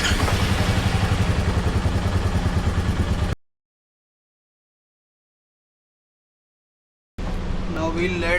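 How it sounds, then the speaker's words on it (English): A Royal Enfield Meteor 350 motorcycle engine idles right after an oil change, a close, steady rhythmic chugging that cuts out into silence midway and then resumes. "Finally, we'll run the oil throughout the engine for a few minutes."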